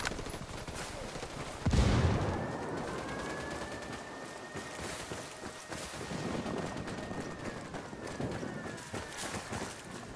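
Gunfire in Ghost Recon Wildlands, a tactical shooter, starts with one sharp loud shot, then rattles on in rapid scattered bursts against a continuous whining engine-like drone, with hurried footsteps mixed in.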